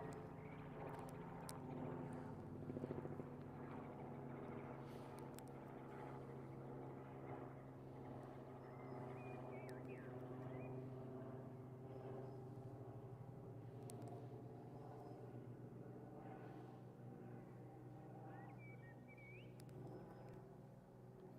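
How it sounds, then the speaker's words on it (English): Propeller airplane circling overhead, a steady distant engine drone that hangs in the air without a clear peak, heard outdoors over faint background noise. "Yeah, that plane's going past again. It's going around in circles."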